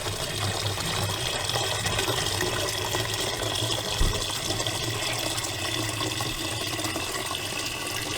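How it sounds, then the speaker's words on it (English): Water from a rainwater barrel pours into a jug in a garden, a steady rushing flow that runs unbroken and fairly loud throughout. "let's fill up this jug for plant food with this rainwater barrel"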